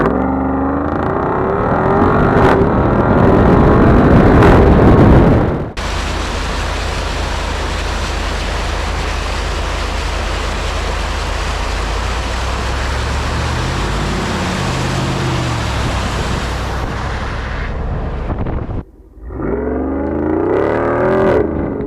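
A Jeep Wrangler 392 drives an off-road trail, a loud, continuous rush of engine and wind noise with rumbling low end that holds steady for most of the stretch before briefly cutting out.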